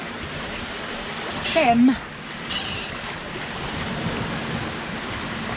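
Waves wash steadily against a sailboat crossing the Ionian Sea, a continuous rushing swell with some wind, while someone speaks briefly over it.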